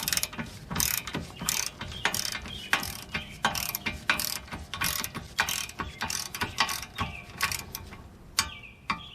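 Ratcheting torque wrench tightening a tie rod end nut on a 2010-2016 Buick LaCrosse or Chevy Impala, a steady run of rapid, close clicking pawl strokes with short pauses between pulls.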